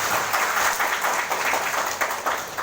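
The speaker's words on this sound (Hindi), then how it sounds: "हम अपने ही सबसे जनप्रतिनिधि से ताली बजा कर पास कर दिए के लागी आग्रह कर चाहे छी" Municipal council members at a town assembly clap together to pass the budget, a steady wash of dense group applause throughout, fairly loud and without talk.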